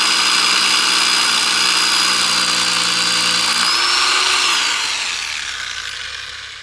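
A rotary hammer drill runs at a loud, steady high whine with a low motor drone, then spins down and fades as the trigger is released.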